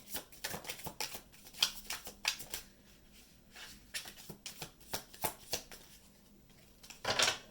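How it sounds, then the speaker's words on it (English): A deck of tarot cards is shuffled by hand in a run of quick riffling bursts and soft slaps, close to the microphone, with short pauses between passes and a louder flurry at the end. "Okay, this is the last shuffle."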